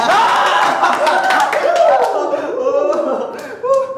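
Applause from a classroom audience as a group is called up, a steady patter of clapping mixed with overlapping voices and some chuckles throughout.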